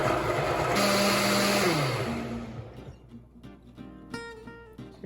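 A kitchen blender purees gazpacho, running loud and steady at a low stir speed, then ramping up in pitch toward liquefy before winding down, followed by a few faint knocks and clatters.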